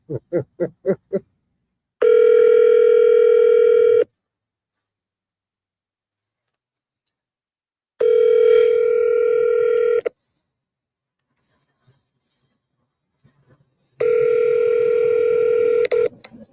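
A phone line rings on an unanswered live call: three short dialing tones, then three long, loud, electronic rings spaced several seconds apart, with silence in between and no talk.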